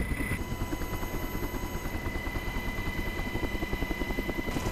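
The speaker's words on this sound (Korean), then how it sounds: "드디어 강화 지점에 멈춰선 헬기." A military helicopter hovers at a parachute drop point high over mountains for a Marine Corps high-altitude infiltration team, its steady rotor thump pulsing loud and close with a constant engine whine and wind rush, no voices.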